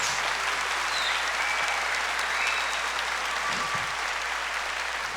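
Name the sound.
warm round of applause from church audience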